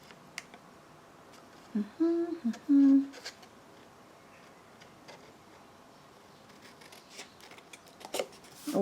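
Scissors snip through card stock corner pieces for a handmade note card, a few short crisp cuts close by with light rustling of paper around them.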